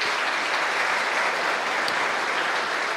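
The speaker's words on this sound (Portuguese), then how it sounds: "Uma salva de palmas." Steady, dense applause from a crowd, continuous and fairly loud throughout without any pauses.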